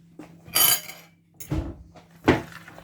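Potato and egg get mashed in a bowl, three distinct thumping, scraping strokes of a utensil against the dish, with quiet pauses between them.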